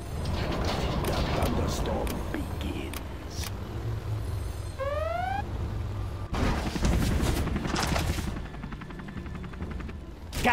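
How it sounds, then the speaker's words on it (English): Gatling tank gun firing in Command & Conquer Generals, a dense rattling barrage of rapid shots over rumbling vehicle engines, with a rising spin-up whine midway and voice lines spoken around it. "Gatling tank, ready for action. Gun barrel spinning."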